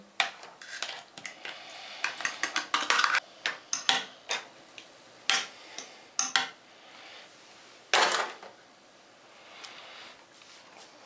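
French R.I.E. ration Menu No 5, boeuf en salade of beef chunks, potatoes, green beans and tomato sauce, scraped from its tin onto a tray: quiet irregular clinks and metal scrapes close by, clustered in bursts with short pauses.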